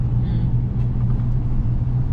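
A restored 2005 Chevy Colorado pickup truck on a test drive, its engine giving a steady low rumbling drone from inside the cab, fairly loud and continuous with no talk over it.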